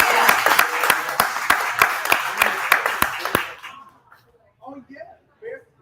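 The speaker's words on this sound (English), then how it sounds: "Can we get some hand claps on that?" Studio audience clapping in a lively burst during a live Chicago Bears alumni talk show, loud and steady for about three seconds before fading out, followed by a voice speaking.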